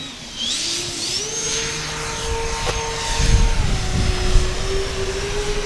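An E-flite Twin Timber RC plane takes off in strong wind, its electric motors whining steadily and shifting pitch as the throttle changes, loud and near, with a gusting rumble building underneath.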